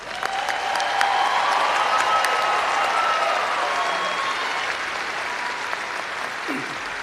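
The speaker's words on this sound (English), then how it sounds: "let's give our new doctors another round of applause" A large audience applauds at a veterinary medicine graduation hooding ceremony, steady dense clapping filling a hall, sustained and fairly loud without letting up.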